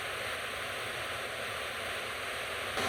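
Josephine Falls, a rainforest waterfall in Far North Queensland, gives a steady, dense rush of falling water that holds constant and close throughout, with no voices.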